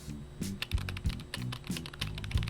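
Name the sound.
typing on boss's computer keyboard in video game Withered Haven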